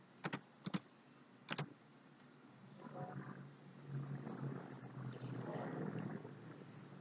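Someone types a command on a computer keyboard: a few sharp, quiet keystrokes, then a low background rumble. No one speaks.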